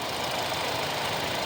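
A 2023 Hyundai Santa Fe 2.5-liter four-cylinder turbo engine idles in a steady, even hum, close up and constant with no talk over it.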